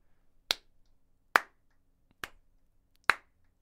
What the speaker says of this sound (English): I'm going to stop slow clapping because I just looked at the audio spiking